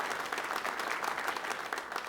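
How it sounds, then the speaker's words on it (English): An audience applauds a panel of distinguished women at a business forum, steady dense clapping filling the room without pause, moderately loud throughout. "a huge round of applause first for distinguished ladies"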